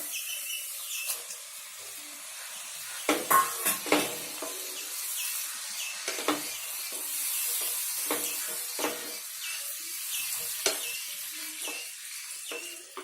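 Onion and tomato masala for Karwar-style squid masala sizzles in a pan, with a constant frying hiss broken by scraping spoon strokes and clatters as it is stirred, close and fairly quiet.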